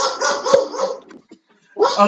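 A dog barks in a quick string of loud, close yaps, then falls silent briefly before a fresh burst of barking starts up.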